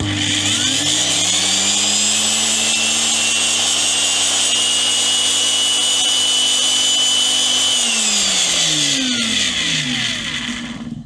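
An older Parkside C2 router running at speed 1 gives a loud, steady high-pitched whine with a mechanical rattle, close by, then spins down near the end.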